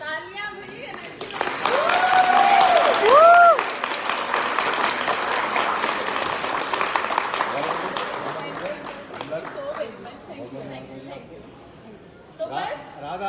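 Applause from a crowd at a Hindi motivational event swells and carries on while an announcer talks over it, with a brief whistle-like tone early on, fading toward the end.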